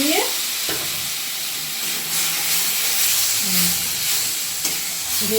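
A little water poured onto spice paste frying in a pan for a Bengali katla fish curry, producing a steady, loud steaming hiss and sizzle close by, with faint scraping of stirring underneath.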